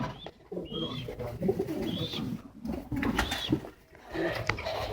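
Pet pigeons or doves in a home aviary, one nest-building ahead of laying, coo softly and repeatedly with a few chirps over a continuous murmur of bird sounds at close range.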